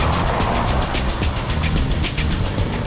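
A Citroën 2CV runs flat out, its engine and road noise loud and close, with rhythmic surges as the little car is thrown into sharp swerves.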